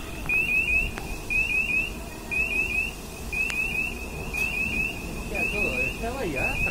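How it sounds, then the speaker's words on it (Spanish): A man-down alarm on a worker's safety device beeps in repeated quick bursts of high electronic tones, sounding at a steady rhythm over faint background voices. "La primera alarma es hombre a tierra."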